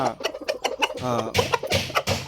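A lean fighting rooster, recently brought in from the flock, gives a run of close, fairly loud clucks and throaty calls in a quick irregular rhythm, with no talking over it.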